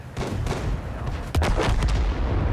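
A tank gun fires in World of Tanks, giving loud booming blasts with a heavy rumbling low end. A sharper hit lands midway and sustained battle noise follows.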